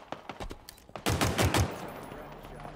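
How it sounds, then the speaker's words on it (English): Weapon fire in the video game Halo Infinite during rocket launcher play, heard as a quick run of sharp cracks followed by a loud heavy burst that trails off into a low rumble. "I like the rocket launcher. It's pretty smooth."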